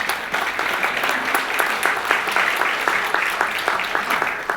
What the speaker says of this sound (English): Round of applause, championship teams.